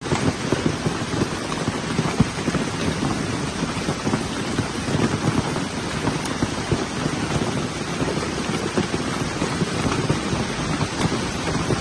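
Hailstorm over Paris with heavy rain and thunder, a loud, continuous dense roar of pelting drops and rumbling low thunder, steady and close without voices.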